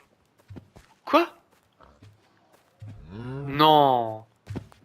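A single drawn-out Minecraft cow moo rises and falls, preceded by a few short clicks and a sharp burst, with scattered soft noises around it.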